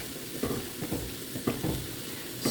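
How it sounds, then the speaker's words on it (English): Noodles for turkey stroganoff being stirred in a pot, with repeated close scraping strokes over a low sizzle and no talk. "Stirring those noodles again."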